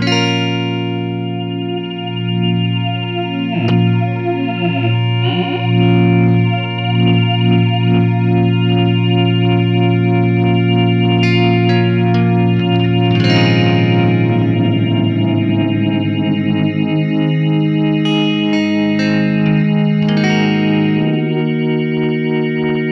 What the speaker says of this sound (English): maybe a flange sound